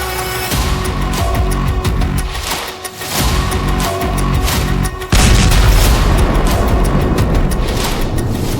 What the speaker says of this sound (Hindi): खुर्रमशहर 4, जिसे खैबर भी कहते हैं, उसका धमाका देखिए।